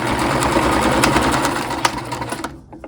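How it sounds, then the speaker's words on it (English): A sewing machine back stitches through a fabric bookmark with a steady, fast mechanical whir that runs up close and continuous for about two and a half seconds, then stops and leaves a few faint clicks. "just do some back stitching to hold the stitching in place"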